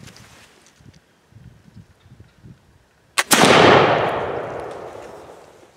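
A smoothbore muzzleloader loaded with a double ball charge fires outdoors: one sharp, loud blast after quiet rustling, followed by a long rumbling decay that fades over about two seconds.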